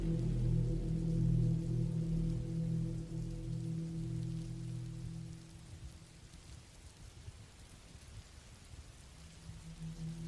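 Rain patters steadily on a surface through a rainy night, a soft constant wash of drops over a low rumbling hum that fades slightly midway.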